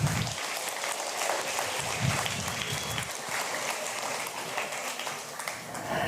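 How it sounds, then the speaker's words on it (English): A conference audience applauds steadily, the dense clapping filling the room without pause for several seconds. "Give them a round of applause"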